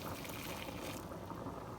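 Starchy pasta water is poured into a pan of pancetta and garlic while making carbonara, a faint, close trickling splash with no talking.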